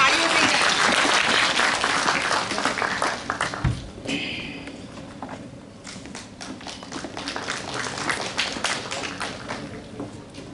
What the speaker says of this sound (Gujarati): એના માટે તાળીઓ થઈ જાય.